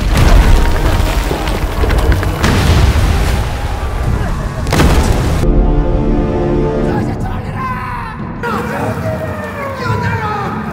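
Heavy cannon fire in a war scene, with deep booming blasts and rumbling explosions that stay loud throughout, along with crashing debris and scattered voices.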